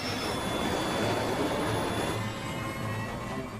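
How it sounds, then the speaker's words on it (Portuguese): An airliner jet engine spools up to full thrust over San Francisco, a loud, dense broadband roar that holds steady and then eases slightly, with no voices. "eu senti o empuxo do motor recuperando a aceleração total"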